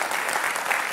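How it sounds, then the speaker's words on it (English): A theatre audience at the Chichester Festival Theatre pre-show talk for The Norman Conquests claps in dense, sustained applause, loud and close, filling the whole brief moment. "So I think we need a round of applause before we even start."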